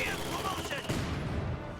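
Anti-tank gun fire sounds in a WWII real-time strategy game, with a sharp burst of shots followed by a brief rumbling boom that fades quickly.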